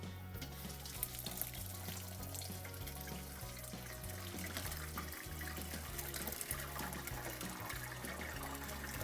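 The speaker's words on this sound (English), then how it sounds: "I'm going to pour as much as I can of it in here to let it" Squished muscadine grapes poured out to drain their juice, a steady liquid splashing and trickling that runs continuously and fairly loud throughout, with no talk over it.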